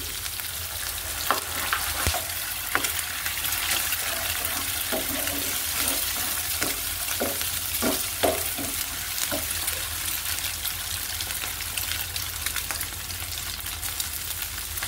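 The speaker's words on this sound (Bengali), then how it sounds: "এবার আমি ডিমগুলো দিয়ে দিলাম।" Eggs sizzle in a pan for Yum Yum noodles with green chilies, a steady frying hiss with irregular sharp crackles and stirring scrapes scattered through the first part, continuing at an even level.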